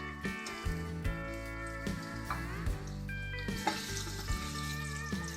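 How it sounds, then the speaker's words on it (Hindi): Sliced medium onion frying in oil over a low flame while cooking Kabuli pulao, a steady soft sizzle with scattered spatula scrapes and clinks, close and moderately quiet with music-like tones in the background. "लो फ्लेम पर हम इसे फ्राई करेंगे"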